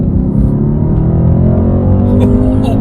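Mercedes-AMG C63 S engine at full throttle, a loud, continuous deep rumble building steadily as the car accelerates hard, close and dominant throughout.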